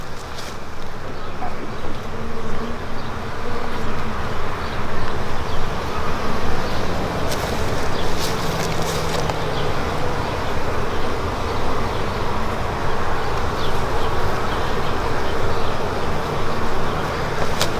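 Honey bees buzz steadily around an open hive during an inspection while brood boxes are added, a dense continuous drone close by with occasional faint sharper clicks and no talking.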